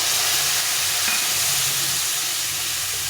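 Fried bitter gourd and potato pieces going into a pan of spiced liquid make a continuous close, even sizzling hiss that runs throughout with no talking.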